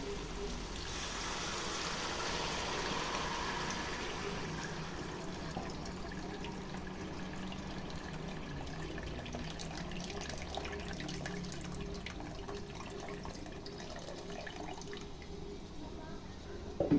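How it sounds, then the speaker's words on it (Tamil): Hot water pours steadily into a cooking pot for chicken biryani, a continuous splashing rush that softens slightly over time, with a faint clink at the end. "10 டம்ளர் அளவுக்கு வந்து வெந்நீர் சேர்த்துக்கலாம்"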